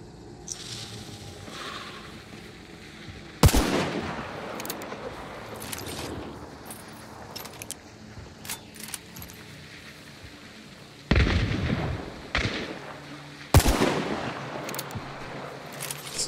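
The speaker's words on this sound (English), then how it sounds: "Throwing a chaos bomb." Chaos bomb from Hunt: Showdown goes off in repeated loud crackling bangs, sharp bursts spaced several seconds apart over a continuous gunfire-like rumble, with occasional smaller pops between them.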